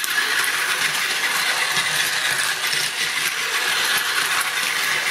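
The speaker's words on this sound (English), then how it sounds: "So now you just have the E5 running off of the motor unit." A Shinkalion E5 toy train runs on its motor unit, giving a steady, continuous mechanical whir and rattle that holds at an even level throughout.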